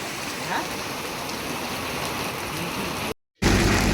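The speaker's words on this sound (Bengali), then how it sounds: "বাইরে এখন তুমুল বৃষ্টি।" Heavy rain pours outside in a dense, steady roar across the whole clip, with a brief dropout near the end.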